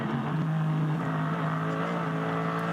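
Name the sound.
Hyundai TCR race car engine at Nürburgring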